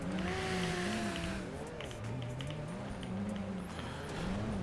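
Car driving in a video game, a droning engine whose pitch climbs and dips as it accelerates and shifts, with a brief squeal-like sweep near the end, steady and moderately loud with no talking.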